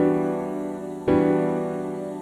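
Sustained choir pad layered with piano in a hip-hop beat, a single piano chord striking midway over the steady held tones, no talking.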